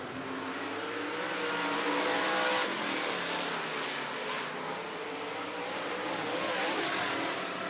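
Race cars lapping a short oval at Swainsboro Raceway in Georgia, a continuous loud roar of engines holding steady and swelling slightly as cars pass, with no talk over it.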